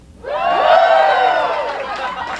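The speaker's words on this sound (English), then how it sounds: "cheer for me" Stand-up comedy audience bursting into cheers, whoops and applause, a sudden loud swell of many voices that holds and slowly tapers off.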